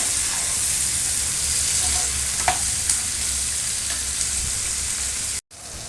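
Tomatoes cook in a pan for veg dum biryani, giving a steady, close sizzle with a few soft stirring clicks. The sound cuts out briefly near the end, and no one speaks.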